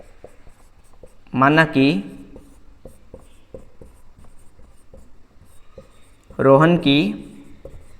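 Pen scratching steadily on paper while a maths solution is written out by hand, soft close strokes broken by two short stretches of speech.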